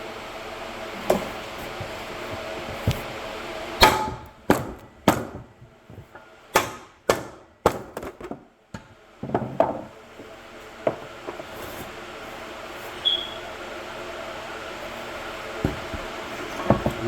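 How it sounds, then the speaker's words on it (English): Hammer blows ring out on a rear disc brake part during a brake swap on a Honda del Sol, a series of sharp metallic strikes, clustered rapidly in the middle and scattered before and after, over a faint background hum. "maybe try to hit it with a hammer a few times"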